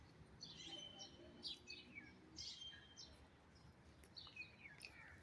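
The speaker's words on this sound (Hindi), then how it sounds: "यहाँ पे मैं खामोश हूँ जी, और ये परिंदों की आवाज़ें सुने ज़रा।" Birds chirping in a garden with colourful flowers on a Pakistani morning, several short bright calls repeating at intervals over a steady hiss of background noise, fairly faint and without talk.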